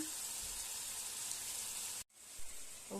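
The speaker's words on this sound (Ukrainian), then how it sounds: "Засмажка робиться," A steady soft sizzle of roux frying in a pan, briefly cut off, then resuming with a faint scrape.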